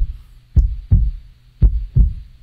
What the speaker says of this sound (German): Man kann hier diesen Herzschlag, der hört sich dann so an.